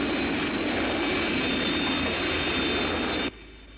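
An airplane engine drones steadily in flight, a loud, dense, sustained roar with a high whine that cuts off abruptly near the end.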